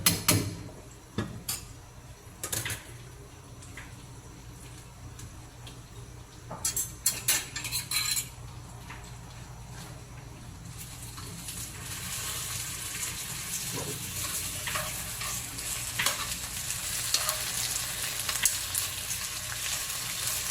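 Vegetables and potatoes are stirred and fried in a pan: scattered clinks of a utensil at first, then a hot sizzle that swells and grows steady and close toward the end.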